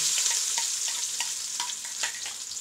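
Plenty of garlic sautéing in a pot for biryani, a bright, steady frying sizzle broken by rhythmic stirring scrapes about every half second, close and clear with nobody speaking.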